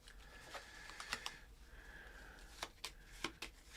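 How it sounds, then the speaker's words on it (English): Sun deck of cards shuffled during an Under Our Sun board game, a faint soft riffling with brief sharp card snaps and taps at intervals, quiet and close. "Shuffles the sun deck"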